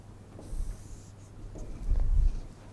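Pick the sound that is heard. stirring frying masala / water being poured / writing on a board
writing on a board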